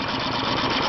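Small engine cranking and sputtering, in need of more choke, a fast rough pulsing chug that is close and loud throughout this very short moment.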